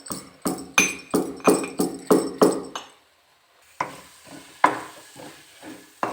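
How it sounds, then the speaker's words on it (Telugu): Garlic, cumin and peanuts pounded in a stone mortar: a quick run of about eight sharp, heavy thuds, a brief silence, then another series of duller, slightly uneven blows, close and alone. "చూడండి, రోట్లో వేసి దంచుకుంటున్నాను, మిక్సీ కాదు."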